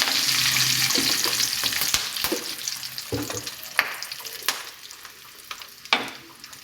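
Whole green cardamom pods, cinnamon pieces and a bay leaf sizzle in hot oil for a biryani, with a steady close frying hiss broken by sharp pops and clatters as spices are stirred.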